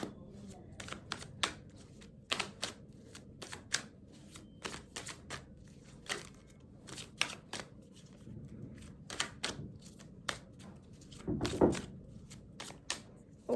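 Tarot cards are shuffled and drawn in a quiet room: a run of crisp, close, faint card flicks and riffles in an irregular rhythm, with a soft thump near the end.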